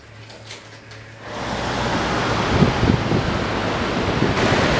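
A raging river rushes behind a hotel in Andorra. Steady, broadband roar of churning water rises after a quieter opening and then holds loud and close with no talk.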